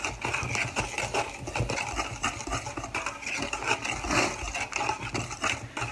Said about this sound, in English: we're just going to whisk it together